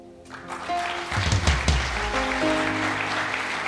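A church congregation breaks into applause during a Sunday service sermon, clapping swelling after a quiet start and continuing steadily with some tonal sounds and voices mixed in.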